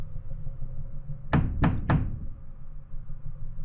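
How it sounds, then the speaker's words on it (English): Three loud, heavy thuds pound on a front door in quick succession, close and forceful, over a quiet low room hum. "Suddenly, we hear the sound of someone pounding loudly on the front door."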